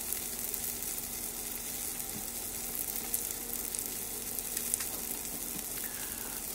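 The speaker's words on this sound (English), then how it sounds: "The next step would be to add red onion and allow it to caramelize." Red onion sizzles in a hot wok beside peppers, a dense, continuous frying crackle with scattered sharper pops and faint stirring, close and steady without any talk.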